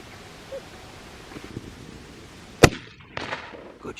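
A single sharp .30-06 rifle shot cracks out during a deer hunt in the Wairarapa, New Zealand, loud and close against quiet outdoor background, followed by a faint trailing echo and some rustling.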